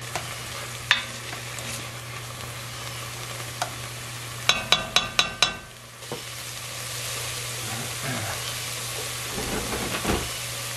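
Onions frying in a pan for a vegan lentil chili, a steady close sizzle with a burst of sharp clicks and scrapes from stirring midway, then the sizzle carries on alone.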